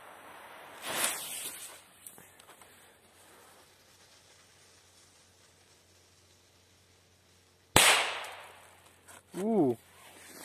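Two sharp, hissing blasts of China Banger firecrackers go off several seconds apart, the second louder, against quiet outdoor background with a short voice afterward.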